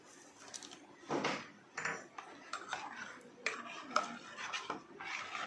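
Kulfi batter with pistachios mixed in a bowl, heard as soft, irregular scraping and clinking of a utensil against the dish, faint and close, with no talking.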